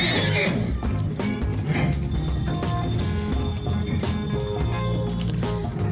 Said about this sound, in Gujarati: આ ઘોડો છે